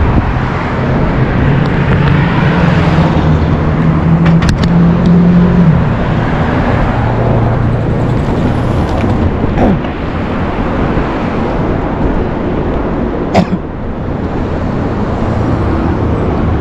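Road traffic at a street crossing in Saudi Arabia: a steady loud roar of passing cars and engines, with a vehicle droning past near the start and brief clanks and knocks, close by and without talk.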